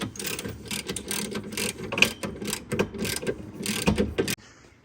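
A ratchet tightening a suspension bolt on a 2022 Mustang drag race car, making rapid bursts of close, loud metallic clicking in quick strokes that stop abruptly near the end.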